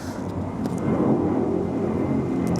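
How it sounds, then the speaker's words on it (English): A steady broadband roar of an airplane passing, moderately loud and continuous, with no voices. "there's a plane passing overhead"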